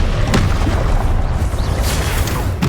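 Confringo fire-spell blasts in the video game Hogwarts Legacy land as deep booms over a dense, rumbling battle backdrop, with sharp impacts at a few points.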